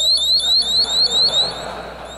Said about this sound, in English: So you have to be careful if the alarm's on.